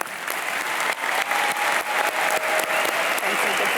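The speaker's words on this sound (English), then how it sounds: "Let's give another round of applause to our scholarship winners." An audience at a graduation ceremony gives a steady, dense round of clapping from many hands that fills the hall for a few seconds.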